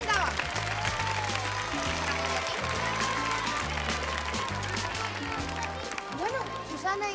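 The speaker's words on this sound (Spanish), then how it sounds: "Y un fuerte aplauso." A studio audience at a 1982 New Year's Eve game-show special claps loudly and continuously, the even wash of applause mixed with a stepping musical accompaniment throughout.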